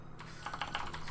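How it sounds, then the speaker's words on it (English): Quick, light keystrokes patter on a computer keyboard during programming work, a close, fairly quiet burst of typing lasting about a second. "I'm really not typing right"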